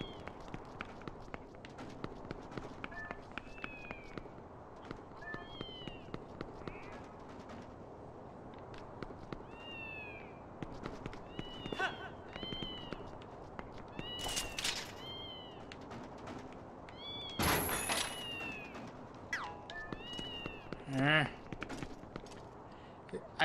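Cats meowing repeatedly in the video game Twilight Princess, several short rising mews scattered across the scene over game music, footsteps and ambient noise, with a louder burst of activity midway.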